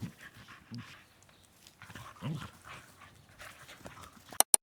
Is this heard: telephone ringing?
no